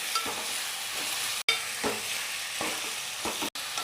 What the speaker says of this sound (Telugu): ఇప్పుడైతే చికెన్ అయితే వేస్తున్నాను. చికెన్ అయితే బాగా కలుపుకోవాలండి.